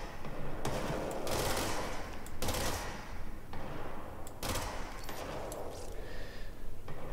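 Bursts of rapid automatic gunfire ring out in the video game Control, broad and dense, running in several long volleys separated by short pauses, with no talking.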